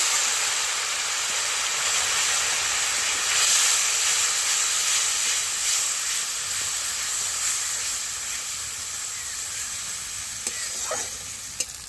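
Spices sizzle and fry steadily in a hot pan with a little spice water added at the side, a continuous bright crackling hiss that stays fairly even throughout, with faint stirring scrapes near the end and no talking.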